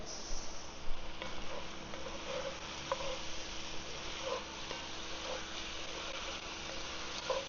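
Garlic and onions fry in a pan for Cajun jambalaya, a steady close sizzle with soft stirring scrapes and small pops, and no voices.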